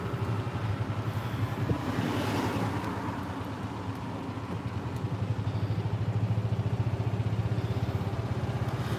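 A golf cart rides through The Villages, its steady low motor hum and road rumble continuing alone at close range with light rattling and wind noise throughout.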